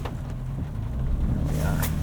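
A 2025 Nissan Armada Pro-4X crawls through muddy ruts, its engine giving a steady low rumble that swells slightly toward the end, with a brief higher burst of wheel or mud noise near the close.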